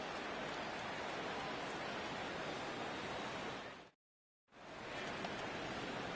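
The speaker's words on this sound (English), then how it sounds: "the rain continues to fall here" Steady rain falling during an MLB franchise-mode baseball video game, Reds at Cardinals in St. Louis, a constant hiss that cuts out completely for about half a second and then resumes just as before.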